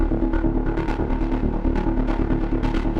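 A synthesizer signal runs through a modulated low-pass filter in Bitwig, modelled on a Moog Labyrinth. It gives a steady throbbing, pulsing sequence with dull, muffled highs and stays continuous and fairly quiet, with no talking.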